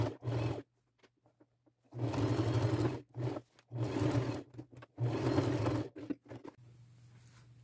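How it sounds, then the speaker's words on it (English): A sewing machine stitches lace onto a denim vest in short loud bursts, with quiet gaps and small clicks between runs. "I'll get these sewn on."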